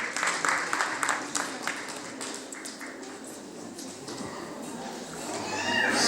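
Audience applause at a school spelling contest, a dense patter of many hands clapping that stays steady and fairly loud, dips slightly midway and swells again toward the end.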